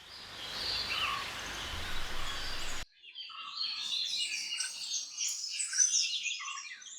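A colourful bird calls in the Western Ghats hills of Munnar, giving a run of bright, chirping notes that repeat irregularly at moderate distance against a quiet background, no speech.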